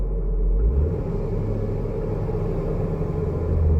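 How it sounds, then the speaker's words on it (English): A Ford Transit van with missing third and fourth gears runs in second, its engine giving a deep, steady low rumble up close after a brief initial surge, with no talking over it. "Let me do another snap throttle in 2."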